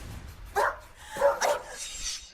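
A dog barks several times in quick succession, sharp, fairly close barks over a quiet background.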